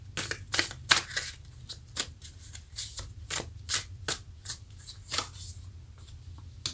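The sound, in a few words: shuffling tarot cards to draw an outcome card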